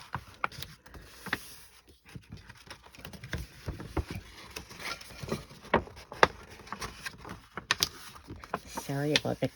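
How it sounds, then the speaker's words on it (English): Paper crinkling and rustling in short irregular bursts while a note card holder is folded by hand without glue or tape, close to the microphone, with a voice talking over part of it. "Sorry about the crinkle noise."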